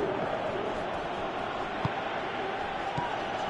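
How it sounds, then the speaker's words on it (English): A football stadium crowd in the PES video game gives off a continuous dense roar, with a couple of faint thuds underneath. "you can hear how the crowd are reacting to this too"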